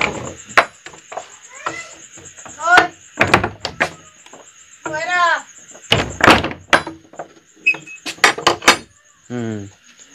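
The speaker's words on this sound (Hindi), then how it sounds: "चलिए ये दरवाजा भी लगा दिए," A house door is pushed shut and locked, giving a series of wooden thunks, clacks and latch rattles in irregular bursts, close by, with a person talking in between.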